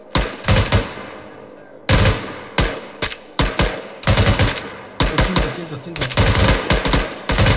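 Rifle gunfire during a long-range shooting contest in Arma 3, loud close volleys of rapid shots and single cracks in irregular bursts across the whole stretch, with a brief spoken word partway through.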